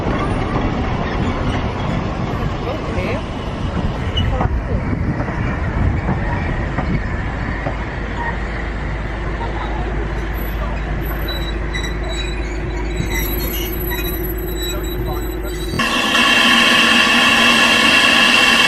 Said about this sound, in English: We're back at Tanni station waiting for the train to pull out to Porthmadog